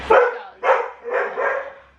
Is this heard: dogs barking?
yes